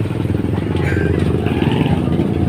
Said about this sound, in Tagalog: Ang motor nyo.